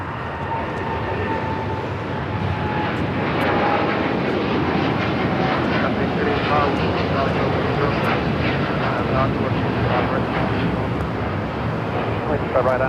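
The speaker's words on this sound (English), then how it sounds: "the United Dreamliner heading to Tokyo Narita, now rolling down 25 right" A United Boeing 787 Dreamliner bound for Tokyo Narita rolls down runway 25R at LAX, its engines a steady, broad roar filling the whole clip, loud and sustained with wind buffeting the microphone.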